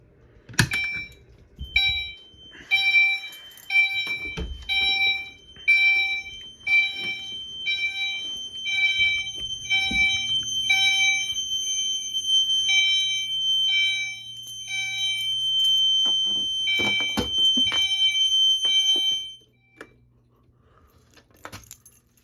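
A fire alarm set off by a pull station during a security system test blares in repeated high-pitched beeping pulses for most of the clip, with metallic clicks and rattles underneath, then stops abruptly near the end.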